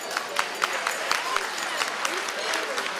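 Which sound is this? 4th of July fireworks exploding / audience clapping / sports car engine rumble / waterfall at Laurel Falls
audience clapping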